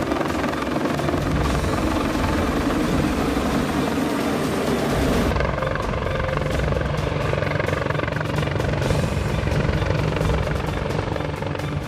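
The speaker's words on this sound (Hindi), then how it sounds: "ग्रीनलैंड के आसमान में अमेरिकी हेलीकॉप्टरों ने उड़ान भरी।" American helicopters fly over Greenland, their rotors producing a loud, continuous thumping drone that stays steady and close throughout, with the tone shifting slightly midway as the craft passes.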